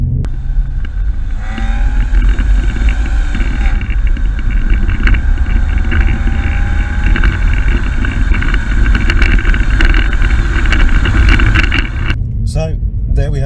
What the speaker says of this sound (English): on to the thing I was talking about earlier, the exhaust. Take a listen to this.